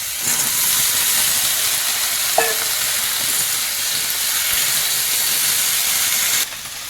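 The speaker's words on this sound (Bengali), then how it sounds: "বেগুন ভাজার পরে যে তেল আছে ওতেই কিন্তু সিমটা ভাজা হয়ে যাচ্ছে" Flat beans fry in oil left over from frying eggplant, a loud, dense hiss and sizzle with a brief clink of a utensil, cutting quieter near the end.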